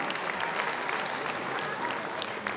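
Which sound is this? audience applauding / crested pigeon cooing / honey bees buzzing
audience applauding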